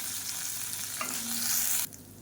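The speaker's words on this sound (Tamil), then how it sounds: "எல்லாத்தையும் நல்லா வதக்கிக்கலாம்" Garlic, ginger and dried red chillies sautéing in a pan, a close hissing sizzle with a stir or scrape midway, cut off abruptly near the end.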